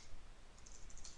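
Quiet keystrokes tap on a computer keyboard while a Git command is typed out, a short burst of light clicks heard faintly over low background hum.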